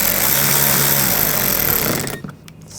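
A power tool drives screws into front bumper cover trim on a 2014-2020 Nissan Rogue, a loud continuous whir for about two seconds before spinning down and stopping.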